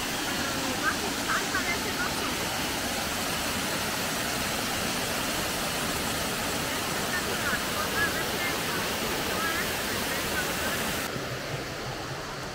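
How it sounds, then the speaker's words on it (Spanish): The Edessa waterfalls rush steadily nearby, a dense continuous roar of falling water with faint chirps on top. "Aquí llegamos al final de la cascada. Aquí es la cascada arriba."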